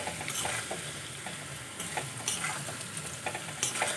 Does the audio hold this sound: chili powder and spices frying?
yes